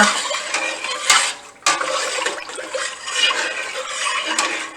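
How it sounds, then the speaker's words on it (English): A spoon stirring salt into milk in a pot for cheesemaking, with continuous scraping and swishing, a few louder clinks against the pot, close up and fairly loud. "We'll stir."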